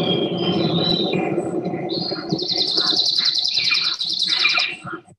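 A mimicking canopy bird delivers a simple trill song, a rapid run of high, evenly repeated notes that follows a mix of lower chirps and warbling, all fairly close and clear with no talking.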